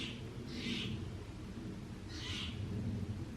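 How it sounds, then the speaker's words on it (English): Two soft, hooting calls from a bird in a tree sound a couple of seconds apart over a low, steady rumble of outdoor background noise. "There's a funny bird making sounds up in the tree."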